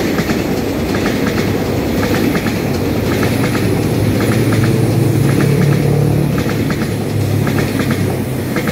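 A twelve-car EMU3000 electric multiple unit express train, set EMU3002, passes close by on the Taiwan line toward Taitung with a continuous loud rumble and rhythmic clickety-clack of wheels over rail joints throughout.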